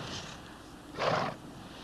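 A horse whinnies once, a short, fairly loud burst standing out over a steady outdoor background hum in a 1975 Western setting.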